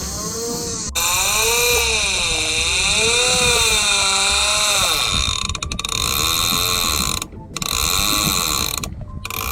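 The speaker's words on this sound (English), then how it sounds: "turn this annoying clicker off, lock her up, tighten up the drag" A deep-sea fishing reel's clicker screams continuously and loudly as line peels off while fishing for swordfish in the Bahamas, a harsh warbling ratchet with brief dropouts near the end.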